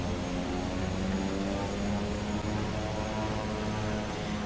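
Simulated Pilatus PC-6 turboprop engine in Microsoft Flight Simulator, heavily loaded, powering up from low idle. A dense, steady droning hum with layered engine tones plays loud and continuous throughout, with no voices.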